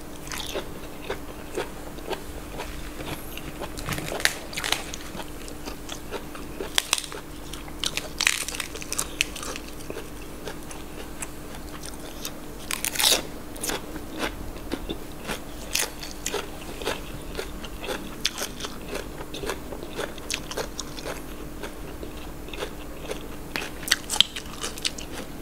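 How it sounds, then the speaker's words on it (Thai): Repeated crisp crunching bites and chewing while eating raw beef with bitter jaew dipping sauce and crisp organic vegetables, irregular sharp crunches close up over a quiet background. "พลอยดีครับกรุบกรุบกรุบนะ"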